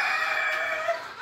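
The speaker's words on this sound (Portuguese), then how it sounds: "Tô com um galo aqui" A rooster held apart in a Cemani breeding yard crows close and loud, one sustained bright call filling the short moment, with no voices over it.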